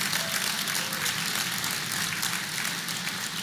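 Dense audience applause fills a large hall at the Google I/O launch event, a loud, even wash of many hands clapping without pause.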